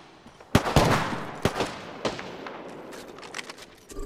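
Gunfire in a battle royale video game: a handful of sharp, loud shots and short bursts, each ringing out with a fading echo, spaced irregularly over a quieter background.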